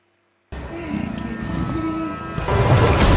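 A lioness roars and growls in a close, throaty rumble, with a loud, rough burst swelling in near the end.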